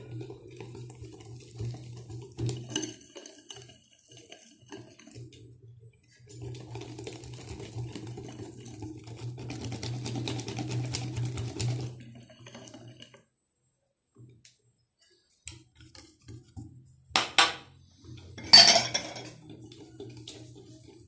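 Basbousa batter being stirred in a bowl, with intermittent scraping and clinking from a utensil in bursts, a quiet pause, then a few sharper knocks near the end; no talking.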